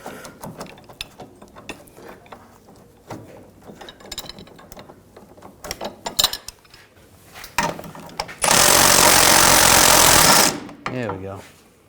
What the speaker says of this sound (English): Should be able to use the impact now.